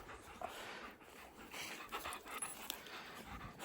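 Big dogs pant rapidly and steadily, close by, during a walk, with quick rhythmic breaths and a faint whimper or two and no talking.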